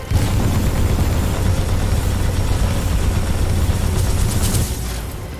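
Heavy gunfire and explosions in the shooter game Titanfall 2, a dense, loud barrage of rapid shots and booming blasts over a low engine rumble, continuous for several seconds before easing off at the end.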